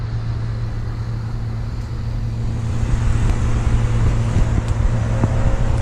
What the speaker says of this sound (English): the leaf blowing machine is going hard